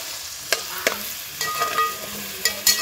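Onions fry in a pan on a wood-fired stove for village-style chicken, a soft constant sizzle punctuated by several sharp, close scrapes of stirring at uneven intervals.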